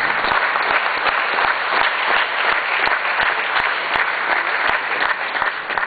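Indoor audience at a Rotary International event gives a warm, sustained round of applause, dense steady clapping with a few sharper individual claps standing out.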